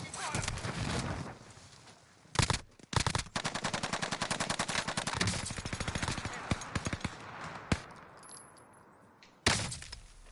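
Rapid bursts of automatic gunfire in Call of Duty: Warzone, dense rattling volleys with a few sharper single shots, loud and close, running for several seconds amid game ambience.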